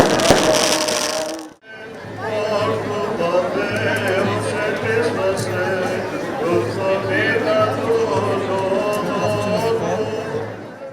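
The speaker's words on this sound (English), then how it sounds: "And of course there are firecrackers" Firecrackers and fireworks crackle and pop through Easter celebrations in Leonidio, Greece, dense and continuous over a busy outdoor crowd murmur, with a brief pause near the start before the steady din resumes.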